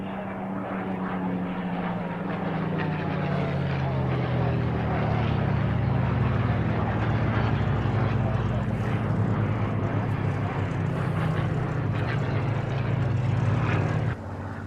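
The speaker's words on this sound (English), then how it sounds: "There we go, Spitfires galore and the odd hurricane for good measure." Several Spitfire piston aircraft engines and the occasional Hurricane droning past, a loud sustained propeller roar that swells and slowly shifts pitch throughout.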